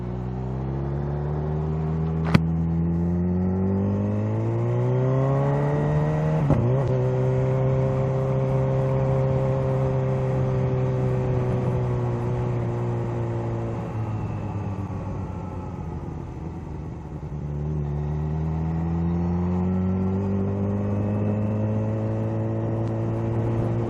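Kawasaki ZH2 supercharged motorcycle under way, engine droning and rising and falling through revs with steady wind rumble, heard close and continuous for a long stretch without talk.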